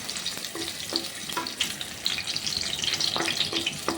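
Small pieces of ginger fry in a pan for onion chutney, a close, steady sizzle broken by repeated scraping and tapping strokes of a spatula at an uneven rhythm.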